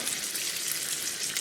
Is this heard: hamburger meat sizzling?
yes